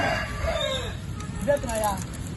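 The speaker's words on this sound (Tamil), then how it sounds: "இப்ப குருவி கத்துறது கோழி கத்துறது" A rooster crows a couple of times, its drawn-out calls rising and falling over a quiet outdoor background with faint voices.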